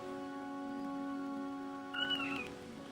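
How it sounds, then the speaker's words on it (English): A pet cat meows indoors, a short, clear cry near the end, heard alone over a steady humming background. "You guys hear my kitty?"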